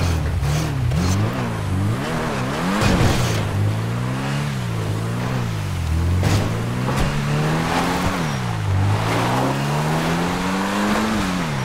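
A race car engine in GTA 5 revs and shifts through gears, pitch climbing and dropping repeatedly in a loud, continuous drone with rougher bursts between shifts.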